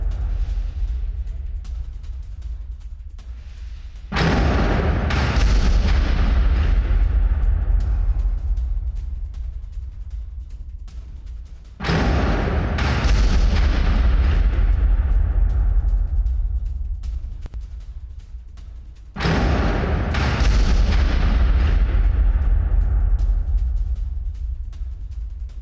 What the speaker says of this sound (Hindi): हिजबुल्ला बेस पर आईडीएफ की भयंकर एयर स्ट्राइक